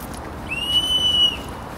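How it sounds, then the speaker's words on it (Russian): A small clay toy whistle bought at an Easter fair in Moscow gives a single clear, high, steady whistle lasting under a second, over faint background hubbub. "Зато у нас теперь есть свистулька."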